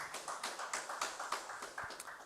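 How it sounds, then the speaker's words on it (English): Audience at a Uganda Sign Language Program graduation ceremony clapping in a steady, fairly sparse rhythm of distinct claps, moderately close, without talk. "A round of applause, ladies and gentlemen."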